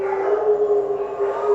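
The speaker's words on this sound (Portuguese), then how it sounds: "Os meus Rottweilers uivando." Rottweiler dogs howl together in a steady, sustained drone, fairly loud and close, with layered tones carrying through the whole stretch without any talking.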